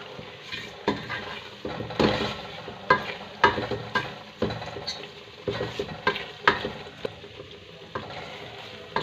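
Suji halwa being stirred in a pan, a spoon scraping and knocking against the metal in uneven strokes over a faint sizzle, close and moderately quiet.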